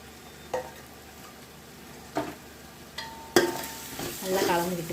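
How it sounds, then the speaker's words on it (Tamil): Biryani ingredients are stirred in a pan, a few distinct scrapes and clanks of a spoon against metal at irregular intervals over a faint background sizzle, with a louder burst of scraping near the end. "நல்லா கலந்து விட்டுக்கோங்க"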